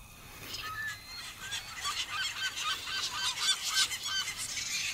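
Seagulls squawk and call repeatedly from a boat canopy at a lake, a busy overlapping series of loud, close honking cries over steady outdoor ambience.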